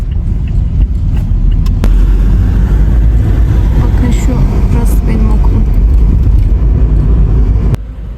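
Inside a moving car, a loud, steady low road and engine rumble fills the cabin throughout, with occasional small knocks and a voice talking over it.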